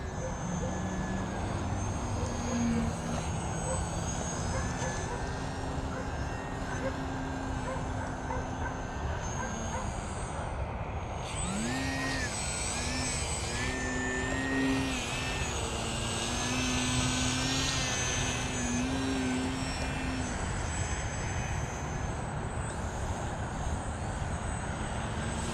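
A foam RC 3D aerobatic airplane flies overhead, its electric motor and propeller buzzing continuously with shifting pitch as it maneuvers, moderately distant over outdoor background noise.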